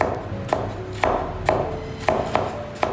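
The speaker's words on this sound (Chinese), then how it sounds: "老姜同样也用刀拍一下" A kitchen knife's flat blade smacks down on a piece of old ginger in a Cantonese home kitchen: six sharp, evenly spaced thuds about half a second apart, close and clear, with no voices.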